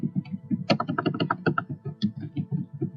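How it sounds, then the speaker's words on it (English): Keys clatter on a computer keyboard as a document name is typed, a quick, irregular run of close, crisp clicks with no talking. "Type the name of your document"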